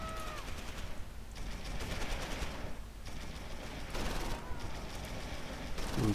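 Rapid bursts of automatic gunfire rattle in repeated volleys over a constant background in the game Close Combat: The Longest Day, Meuse 1940, with game-style effects and no clear talk.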